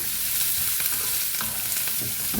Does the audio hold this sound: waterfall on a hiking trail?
no